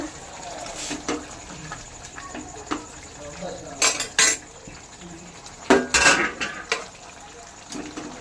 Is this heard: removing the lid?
yes